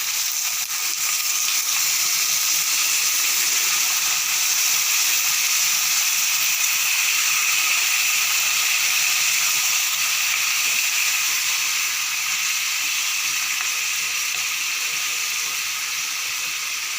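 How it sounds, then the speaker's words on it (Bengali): Bengali-style jackfruit and shrimp curry boils in a pot, giving off a steady, loud, unbroken hiss that holds evenly for the whole stretch with no voices over it. "এবার কিছুক্ষণ ফুটতে দেবো।"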